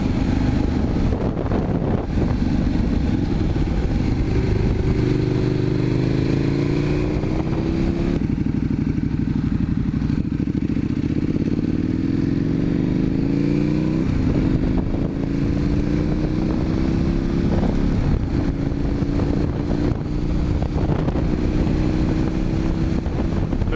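A motorcycle ridden at road speed, its engine droning loud and steady and climbing in pitch through the gears, with rushing wind noise throughout.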